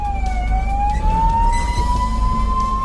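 An ambulance siren on a forest road in Kulgam, Jammu and Kashmir, where the ambulance is stuck behind an elephant. A loud, close, wailing tone rises slowly over steady engine rumble.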